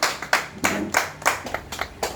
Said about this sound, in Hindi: डॉक्टर साहब श्री राजपाल जी को आपकी तालियों के बीच।